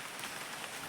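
Steady rain patters on a surface, a continuous soft hiss with no voices.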